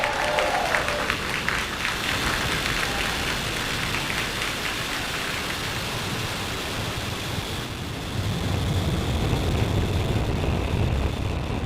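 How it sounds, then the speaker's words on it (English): A Starlink rocket lifting off, heard as a loud, steady broadband roar that crackles like heavy rain, rising in low-end rumble toward the end. "Ignition and liftoff of Starlink 414."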